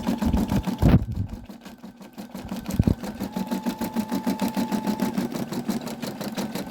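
A sewing machine stitches a design with fast, even mechanical clatter, pausing briefly near the start before running steadily and close.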